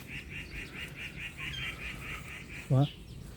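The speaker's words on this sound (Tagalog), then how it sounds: "Pakinggan yung mga uni ng ibon." A bird repeats a rapid series of high chirps outdoors, followed by a short low call, over faint background noise.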